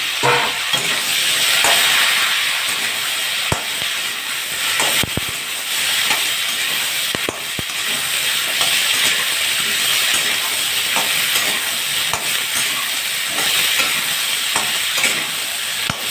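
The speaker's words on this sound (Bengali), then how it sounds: "এবার এগুলো আমি একটু লাল লাল ভেজে নেব" Cauliflower florets fry in hot oil seasoned with turmeric, giving a steady close sizzle and hiss with brief clicks and scrapes of stirring.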